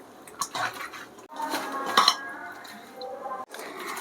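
Fish mixed by hand in a bowl before frying, with close, irregular clinks and scrapes against the bowl and a soft wet squish between brief pauses, and no talking.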